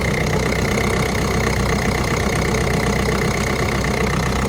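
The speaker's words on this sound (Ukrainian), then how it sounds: "Двигун працює рівненько, його не ковбасить." A Peugeot 508 engine idles steadily and loudly up close, cold, a constant low rumble with no change in pace.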